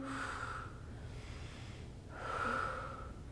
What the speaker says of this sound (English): Inhaling and exhaling.